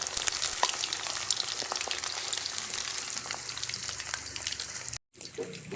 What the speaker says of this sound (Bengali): পকোড়াগুলো প্রায় লাল লাল হয়ে এসেছে, ভাজা ভাজা হয়ে গেছে